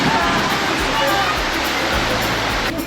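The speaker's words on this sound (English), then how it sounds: "The waves were pretty big." Big ocean waves at a beach near Darwin, Australia, heard as a continuous loud roar of surf and rushing water filling the whole clip, with a soft rumble underneath.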